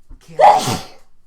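One loud, explosive sneeze right up close, preceded by a brief intake of breath and fading quickly.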